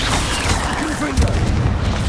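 Explosion from the Confringo fire spell in Hogwarts Legacy, a loud booming burst mixed with game effects and a rumbling tail, with a voice present.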